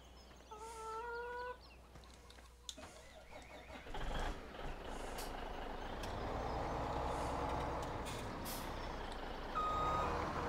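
Truck reversing beeps and a hiss of air brakes in a farming video game, with chickens clucking nearby; a steady beeping pattern runs under the engine rumble while fowl chatter throughout.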